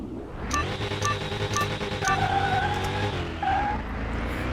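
Dodge Challenger drag racing in the video game Car Mechanic 2021, its engine revving loud and steady, with the pitch dropping at two quick gear shifts before climbing again.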